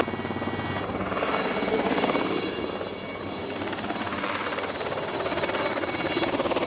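A police helicopter supporting a GIPN special intervention unit, heard as a steady loud rotor and engine drone with a high whine, continuous throughout with no voices.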